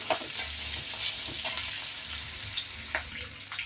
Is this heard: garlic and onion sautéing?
yes